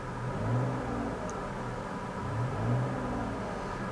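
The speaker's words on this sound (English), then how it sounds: "we're going to rev it up and let it go a few times" A car engine idling with a low rumble and then revved twice, each rev a smooth rising and falling swell, heard steady and close.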